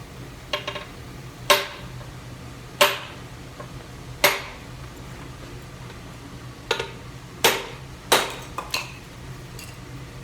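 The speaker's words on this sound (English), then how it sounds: "I'm going to take the handset and I'm going to break it in off this corner to relieve it and get rid of some of this stone first" A steel hand set is struck against a stone block to break off a corner during relief carving, about eight sharp ringing knocks spaced irregularly over a low steady background hum, with nobody speaking.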